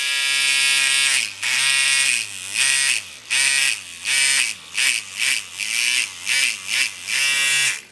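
A Hummingbird rotary tattoo machine runs with a loud, high buzzing whine, cut into repeated short bursts that start and stop in a choppy rhythm, close and alone.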